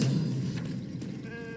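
Sheep bleating in a peaceful riverside farm area of the fantasy video game Baldur's Gate 3, a short bleat near the start fading into low ambient background.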